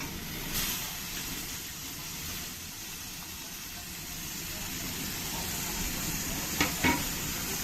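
Chopped tomatoes being stirred into browned onion in a pan for Marathi stuffed brinjal (bharli vangi), giving a soft, steady sizzle with scraping stir noises throughout and a couple of sharper utensil knocks near the end.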